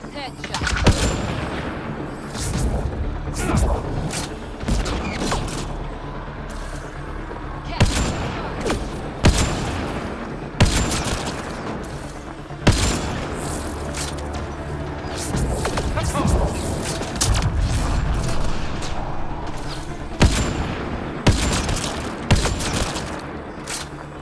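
Repeated gunfire in the Mass Effect: Andromeda video game, sharp loud shots in irregular bursts over a dense combat din, with voices talking at times.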